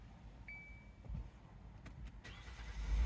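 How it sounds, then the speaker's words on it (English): A 2011-2015 Kia Sorento, just fitted with a new battery, has its engine started: a few quiet cranking bursts followed by the engine catching into a low, faint idle. "Let's try turning the engine on."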